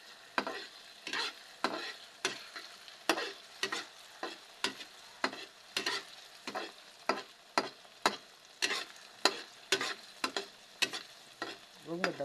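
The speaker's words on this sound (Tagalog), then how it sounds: "Madalang na haluin para maluto siya." Food frying in a pan is stirred with regular scraping strokes over a constant soft sizzle, close by, the strokes repeating steadily about once a second with no voices.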